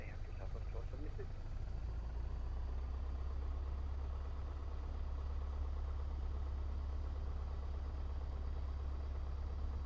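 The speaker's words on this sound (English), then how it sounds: "And we'll start the engines." A Piper PA38 aircraft engine cranks and catches, then settles into a steady, low, rumbling idle that runs throughout, while a person speaks over the noise at the start.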